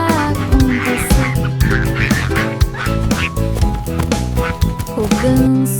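A goose honks repeatedly over a busy children's nursery song with singing and instruments, the honks blending into the music.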